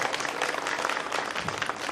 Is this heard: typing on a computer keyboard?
no